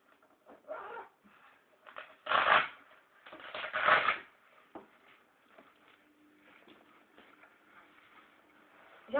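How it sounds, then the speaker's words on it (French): Velcro straps on horse-riding gear being pulled open: two loud ripping tears in the middle, surrounded by softer rustling and fabric handling, close and alone without speech. "Je vais plutôt l'ouvrir par les scratchs parce que c'est pas bien par la fermeture."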